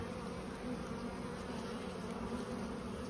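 A dense, steady drone of many honeybees buzzing together in a hive weakened by spring dwindle, unbroken and even throughout.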